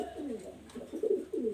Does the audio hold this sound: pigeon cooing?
yes